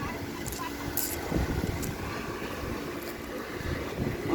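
Steady rushing wind buffeting the microphone outdoors on a hot day, a continuous low roar that swells slightly toward the end.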